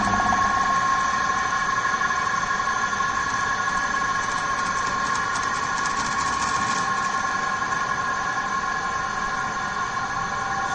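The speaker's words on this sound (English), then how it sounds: "So observe the direction of 3-phase induction motor." 3-phase induction motor running, a steady loud electrical hum with strong tonal whine and constant mechanical drone, unchanging throughout with no pauses.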